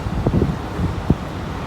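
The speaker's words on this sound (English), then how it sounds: "the wind is starting, you can see the tree starting to move a little bit" Wind rises outside a truck being loaded during a tornado warning, a short stretch of steady rushing noise with a couple of gusty buffets against the microphone.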